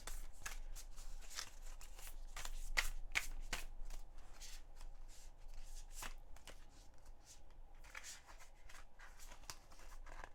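Oracle cards being shuffled by hand in a reading, a steady run of soft papery riffles and snaps that continues alone and close throughout.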